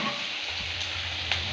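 Onions and tomato frying in a pan for a paneer curry, a steady close sizzle that holds evenly throughout with no voices over it.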